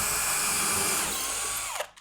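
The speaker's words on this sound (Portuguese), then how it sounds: "estou fazendo esse pré-furo, né, só para o parafuso não estourar o MDF." Power drill boring a pilot hole into an MDF drawer for a screw, a steady close whine running throughout before stopping abruptly near the end.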